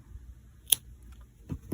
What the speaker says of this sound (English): Let's take our scissors and cut off some of this yarn